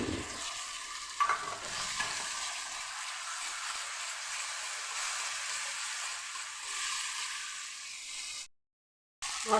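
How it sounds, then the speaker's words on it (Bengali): Spice masala stir-fried in hot oil for an aar fish curry, a continuous close sizzle and hiss with light stirring scrapes throughout, cutting to brief silence near the end. "একটু ভালো করে কষিয়ে নেব। মশলাটা দিয়ে দিচ্ছি।"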